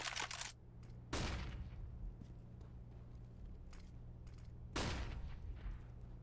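AWP sniper rifle fired in a Counter-Strike match on Mirage, two sharp booming shots a few seconds apart over faint game ambience, heard alone without talk.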